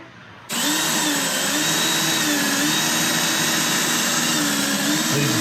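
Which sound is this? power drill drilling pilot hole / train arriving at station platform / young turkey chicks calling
power drill drilling pilot hole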